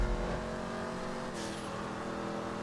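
Vapid Dominator muscle car engine in GTA 5, a steady mid-pitched drone under load held throughout, fairly quiet and even with no clear rev peaks, no talk over it.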